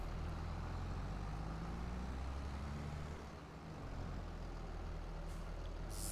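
A vehicle rolls past in Farming Simulator 22 (Landwirtschafts-Simulator 22), a steady loud low engine rumble that dips briefly midway, with a faint hiss near the end.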